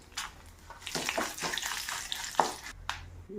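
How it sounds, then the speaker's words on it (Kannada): A spoonful of mustard seeds hits hot oil for tempering a pumpkin peel gojju, making a close, bursting sizzle with crackles and utensil knocks, fading briefly before flaring again. "ಸಾಸಿವೆ ಕಾಳು ಒಂದು ಸ್ಪೂನ್ ತುಂಬ ಹಾಕ್ತೀನಿ"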